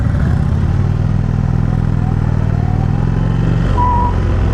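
A 2018 Indian Chief Vintage motorcycle with a five-speed gearbox rumbles steadily at close range while being ridden, a continuous low engine drone with no one speaking.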